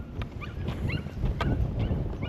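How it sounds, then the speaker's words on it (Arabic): Stray dogs bark along a street in Dakhla, Morocco, giving a few short yelps and barks at mid distance over steady traffic and road noise. "الكلاب الضاله موجوده هنايا"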